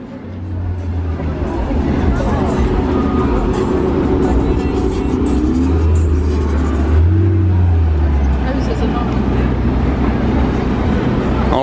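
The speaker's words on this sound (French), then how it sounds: "Porsche 918 rouge." Red Porsche 918 sports car driving through Monaco streets, a loud, continuous engine rumble that rises and swells midway, with someone talking over it.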